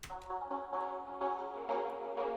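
A sustained synth pad in FL Studio processed with a Shaper Box effect, its chordal tone rhythmically pulsing and swelling in volume across the phrase, heard alone with no talk.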